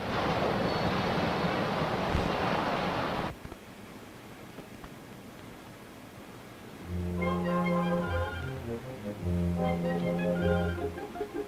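Water gushes out of an opened valve at high pressure, a loud broad rushing roar for about three seconds that cuts off abruptly, followed by a quiet stretch and then sustained orchestral tones.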